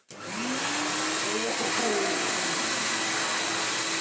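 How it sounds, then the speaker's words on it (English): A Numatic CTD570 twin motor vacuum cleaner with a hard floor head starts up and runs at a steady, loud, close roar, its broadband whine holding constant with a faint pitch shift midway as it is pushed. "we can pretend that we're like vacuuming a shopping centre or something"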